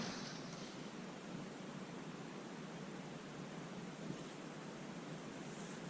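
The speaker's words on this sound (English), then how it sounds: "A little windy today." Steady wind roars against the microphone outdoors during tile installation, a broad unbroken rush of noise at an even level with no voices.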